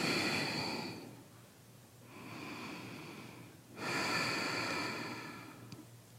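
Slow, deep yoga breathing close to the microphone: three long, soft airy exhales separated by brief pauses, quiet and unhurried with no talking.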